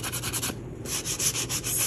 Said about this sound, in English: sand just the edge